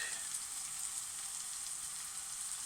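Ginger garlic paste sizzles and fries in hot oil for a rajma curry, a steady close hiss with fine crackle running evenly throughout, no voices.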